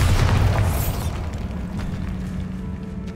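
A Bombarda explosion spell from Hogwarts Legacy goes off as a single loud, deep boom at the start, then settles into a fading low rumble with scattered debris.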